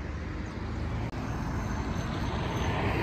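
A Volvo B270F coach with a Campione 3.25 body arrives on the BR-459 highway, a steady loud engine rumble and road roar that holds evenly across the whole stretch, with no talk.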